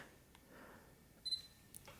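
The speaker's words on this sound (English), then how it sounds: "It'll beep when it confirms." A Sony A99 II camera gives a short, faint high-pitched autofocus confirmation beep against quiet background hiss, with a couple of small clicks around it.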